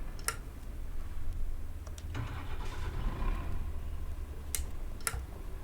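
A truck engine in Euro Truck Simulator 2 starting after an engine failure, a low, steady rumble running throughout with a few sharp clicks and ticks over it.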